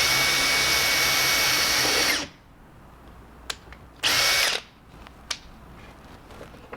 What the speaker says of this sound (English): it helps to pre-drill a little bit right here where you made that mark